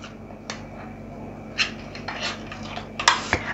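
Spoon working through a chicken tikka marinade in a bowl after two tablespoons of lemon juice go in: soft, scattered clinks and taps of utensil against the bowl, with a sharper knock near the end, over a quiet kitchen background.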